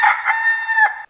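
A chicken sound effect plays on a Telugu women's mega game show: one loud, sustained cackling call lasting about a second, close and alone, with no talk over it.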